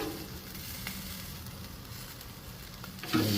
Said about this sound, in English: we're going to add our sloppy joe mix right on top